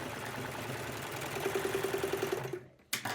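A sewing machine runs while finishing a seam and trimming the fabric edge, a steady close mechanical chatter that stops briefly near the end before starting up again.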